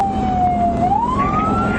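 A police car siren wails close by during a dashcam pursuit, one long rising and falling sweep heard clearly over a low road rumble.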